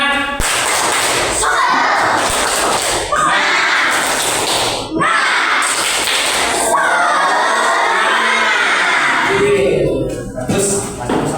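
A classroom of children performs the 'tepuk semangat' rhythmic clapping chant, with bursts of claps and shouted chanting separated by short pauses, loud and close, ending in a scattering of voices.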